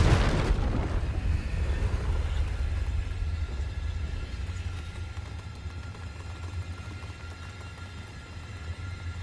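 The Confringo blasting spell in Hogwarts Legacy lands with a sudden heavy boom. A long, low rumbling tail follows and fades slowly over several seconds, with no voices.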